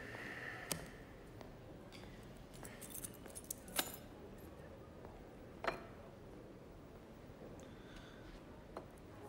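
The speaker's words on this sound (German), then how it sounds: "War vermutlich nur das Schlüsselbund." A bunch of keys jangles at a security checkpoint: brief metallic rattles and clinks stand out against a low, steady room hum, with sharper jingles near the middle and faint ticks scattered between.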